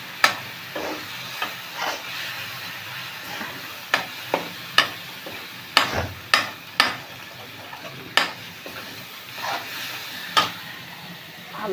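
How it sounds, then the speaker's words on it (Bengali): Crab stir-fried in a pan with garlic-ginger paste, turmeric, chilli and cumin powder: a steady sizzle runs throughout while a spatula scrapes and knocks against the pan in irregular strokes, close and continuous. "রসুন আদা পেস্ট দিলাম, হলুদ লঙ্কার গুঁড়ো আর জিরের গুঁড়ো দিলাম, দিয়ে এটা এখন কষিয়ে নেব"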